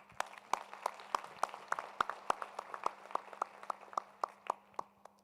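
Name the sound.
applause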